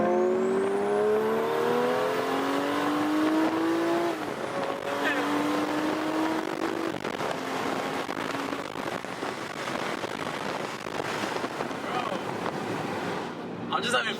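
A manual 2023 Toyota Supra 3.0 Premium with an intake installed accelerates hard through the gears, its rising engine note climbing and dropping with each shift, up close and steady, with occasional voices from inside the car.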